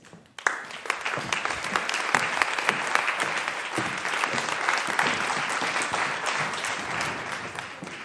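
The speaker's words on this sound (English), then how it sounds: "for you to give them a preemptive round of applause" A panel discussion audience bursts into applause after a brief quiet moment, steady clapping from many hands continuing loudly to the end.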